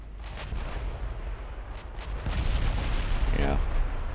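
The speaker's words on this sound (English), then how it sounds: "we're just gonna kill those with secondary guns then" Naval secondary guns firing in the Ultimate Admiral Dreadnoughts warship game, a continuous rumbling barrage of distant booms with a brief whistling streak near the end, steady and fairly loud.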